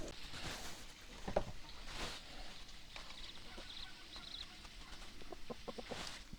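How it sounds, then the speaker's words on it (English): Newly hatched chicks and a broody hen in a homestead coop, giving soft clucks and small peeps against a faint, steady background hiss, fairly close and with no talk. "yeah, I think we have chicks."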